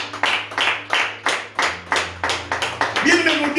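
A church congregation claps together during Sunday worship, a dozen sharp rhythmic claps in steady time, fairly close and loud, with a low sustained musical tone underneath and a brief voice near the end.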